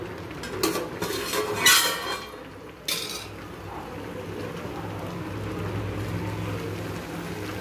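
A spoon scrapes and clinks around a cooking pot as a dish is stirred partway through cooking. The clatter is loud and busy at first, then settles into a steady simmering hiss, with no voices.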